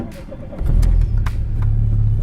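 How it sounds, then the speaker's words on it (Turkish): A VW Polo engine cranks and catches, then settles into a steady low idle rumble, loud and close, with no talk over it. "Hatta şöyle bir arabayı çalıştırıp da bir deneyelim beraber."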